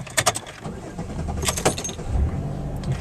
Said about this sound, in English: looks good because the car starts and there's no light